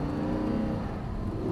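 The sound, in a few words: Audi R8 engine revving as driver upshifts on track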